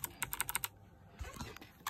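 Keys clatter on a Logitech G815 low-profile mechanical keyboard: a quick run of crisp, evenly spaced clicks, then a pause, softer scattered taps and one last sharp click, close and clear.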